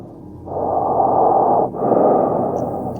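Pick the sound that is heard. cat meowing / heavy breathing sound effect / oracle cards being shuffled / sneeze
heavy breathing sound effect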